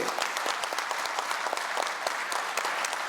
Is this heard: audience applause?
yes